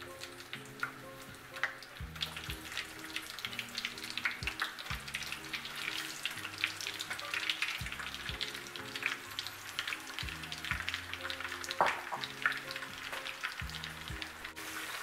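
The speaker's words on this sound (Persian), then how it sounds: "روغن داغ شده، حال ما فلفلا خود پیازا رو میندازیم تا که سرخ بشه" Onions and peppers fry in hot oil in a pan for an Afghan saffron chicken kebab dinner, a moderate steady sizzle running beneath background music.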